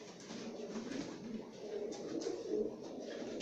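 A tumbler pigeon from Sivas, a breeding male, coos with soft, low murmurs continuously at close range, steady and gentle with no talking.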